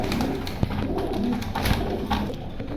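Red checker and grizzle pigeons coo steadily in low, soft, overlapping calls at a pigeon sale in Keraniganj, Dhaka. The cooing runs continuously throughout, with a few faint knocks and rustles from the birds.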